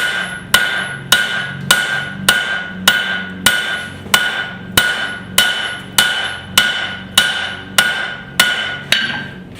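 Hot steel forged with a straight peen hammer, about fourteen evenly spaced ringing blows in a steady rhythm, each strike loud and close with a bright metallic ring that decays before the next.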